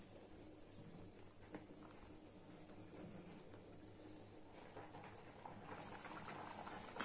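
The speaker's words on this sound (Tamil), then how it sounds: "இந்த குழம்பெல்லாம் நல்லா கொதிச்சிட்டு இருக்கு." Okra tamarind kuzhambu simmers in a pot over a medium flame, giving a steady, soft bubbling hiss that holds at a low level throughout with no talk.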